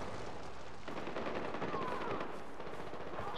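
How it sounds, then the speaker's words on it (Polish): Rapid bursts of automatic gunfire rattle on in the Far Cry 4 video game, dense and continuous and fairly distant-sounding, with no talk over them. "Czy tam się strzela?"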